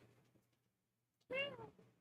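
A single short, bright cat meow rising and falling, close and clear after a moment of near silence, with faint low murmuring before it.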